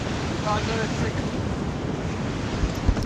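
Ocean surf breaking on a South African shore during a boat launch, a steady wash of waves mixed with gusty wind buffeting the microphone, with a brief voice near the start.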